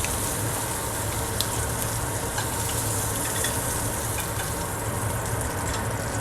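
Shrimp frying in hot oil in a pan, a steady, dense sizzle with scattered faint pops and crackles, constant in level throughout, close up and without talk.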